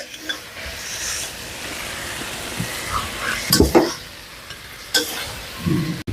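Spices and fried potatoes cooking in a pan for a Kashmiri paneer dish, with a soft steady sizzle under occasional scraping and stirring clatters from a utensil, close by.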